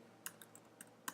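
Fingers typing a short word on a computer keyboard, a few quiet, sharp key clicks spaced unevenly in a near-silent room.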